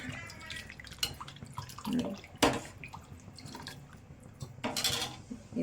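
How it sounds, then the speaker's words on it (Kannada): Small splashes and drips of water land in a pot of mango appe huli, with a few louder bursts of pouring between quieter trickling moments. "ಅದೇ ನೀರನ್ನೇ ನಾನು ಸ್ವಲ್ಪ ಸೇರಿಸ್ತಾ ಇದ್ದೀನಿ"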